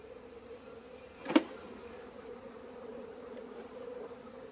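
Honeybees shaken out of a nuc box in front of a hive, a steady low buzzing swarm throughout, with one brief louder thump or burst of sound near the start.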